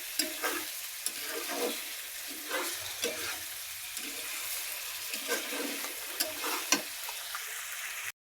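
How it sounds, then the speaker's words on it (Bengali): Chicken pieces for biryani frying in a pan on a rainy day, a steady hiss of sizzling oil broken by repeated scraping strokes of a spatula as the meat is stirred, close and alone. "মাংসটা এখনও এখানে নাড়তে নাড়তে ভেজে নেব"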